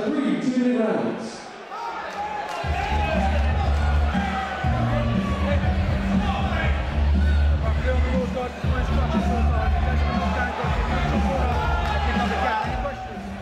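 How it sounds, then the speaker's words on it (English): Crowd roaring and murmuring steadily at an amateur K1-rules mixed martial arts bout in Norwich, a dense continuous wall of hubbub with thumping low impacts and swells of cheering throughout. "with the roars of the crowd here in Norwich"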